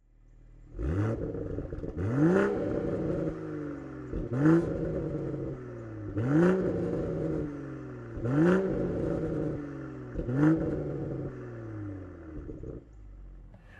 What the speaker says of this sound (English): I'm going to just drive with the roof up because I want you to hear the road noise and stuff like that